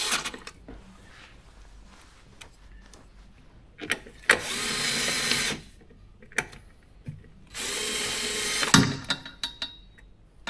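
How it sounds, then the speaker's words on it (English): Two sustained bursts of a cordless power tool driving the bolts that secure a Porsche Macan coolant reservoir to its bracket, each run lasting about a second or so, close and loud, with light mechanical clicks between and no talk. "I'm now going to secure the reservoir to the bracket with the screws, the bolts."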